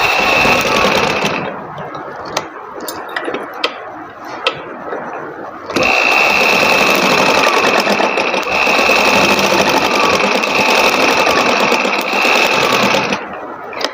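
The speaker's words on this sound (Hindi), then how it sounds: "तो अब चलते हैं मशीन की तरफ, सिलाई लगाते हैं इस पर।" A domestic sewing machine stitches elastic onto fabric, running in a steady loud mechanical whir with a rhythmic clatter, pausing briefly with scattered clicks before resuming a long continuous stretch.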